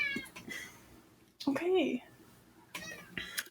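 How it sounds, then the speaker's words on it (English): A cat gives one loud, drawn-out meow close by in the middle, with brief human speech before and after it. "He like walked in here and opened the door and just stood there and was like, meow."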